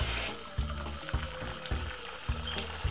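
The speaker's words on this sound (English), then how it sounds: "what I'm gonna simply do is pour water in it like this." Boiling water pours from a kettle into a cooking pot of fair trade fine trimmed beans, a steady splashing stream with a few pulsing surges, close and fairly quiet with no talking.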